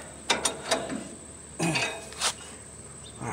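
An ice pick prying and scraping inside the stuck, locked-up engine of a Troy-Bilt wood chipper, giving a few short metallic clicks and scrapes in irregular bursts, close and fairly quiet.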